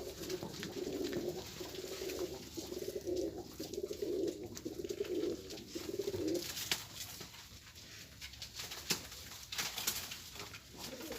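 Pigeons kept by a breeder on a rooftop coo in a repeated rhythmic series for several seconds, faint and a little distant, followed by scattered rustles and light knocks.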